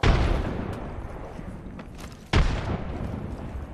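A frag grenade explosion in the video game Apex Legends, with two loud booming blasts, one at the start and another partway through, each followed by a long rumbling decay.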